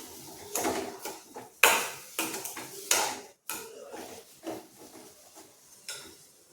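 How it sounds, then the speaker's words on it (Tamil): A spoon scraping and stirring moong dal halwa with added sugar in a pan: a series of distinct, close scraping strokes with short pauses between them, and no voice. "அதோட சர்க்கரையை சேர்த்துக்குவோம். நல்லா மெல்ட் ஆகிற வரை அடி பிடிச்சிடாமல் கிண்டி விட்டுக்கிட்டே இருக்கணும்."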